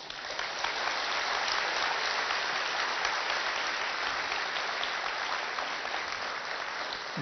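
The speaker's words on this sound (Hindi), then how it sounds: "ताली बजाना तो आता है ना" Lecture-hall audience at a doctor's talk clapping steadily, a dense, even wash of many hands applauding for several seconds, without voices over it.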